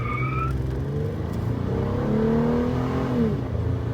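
A Honda CR-Z with traction control switched off pulls away from a standstill, its engine note rising steadily and droning louder as it accelerates, with no talking over it.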